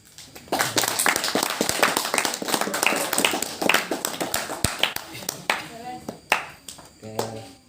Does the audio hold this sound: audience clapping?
yes